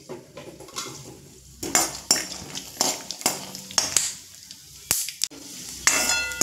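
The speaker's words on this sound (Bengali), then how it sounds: "বাকি বাদামে অল্প একটু তেল দিয়ে আর একটু কড়া করে ভেজে নেব" Peanuts frying in a little oil in a pan and being stirred, with repeated clattering scrapes and knocks of a utensil against the pan in irregular bursts, close and fairly loud, over a faint sizzle.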